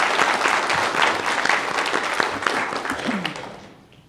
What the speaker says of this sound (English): another round of applause to all our contestants